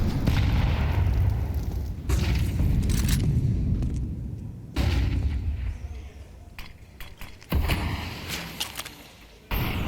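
A grenade blast in a Counter-Strike match, one of several loud, booming bursts with sharp onsets spread across the stretch, trailing into gunfire-like rumble and game ambience.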